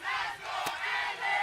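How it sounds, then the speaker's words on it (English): A crowd of flag football playoff fans chanting and yelling in a continuous loud roar, with one sharp bang cutting through partway. "And the fans are chanting."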